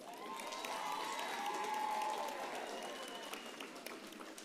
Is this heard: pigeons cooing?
no